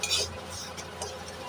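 A spoon stirs semolina frying with salt and turmeric in a pan: soft, faint scraping and light clinks over a quiet background.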